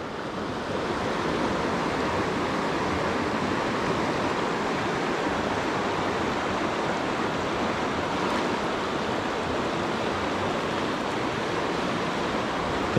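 A stream's current rushing around a big rock in trout water, a dense, continuous roar of flowing water that stays close and loud from start to finish.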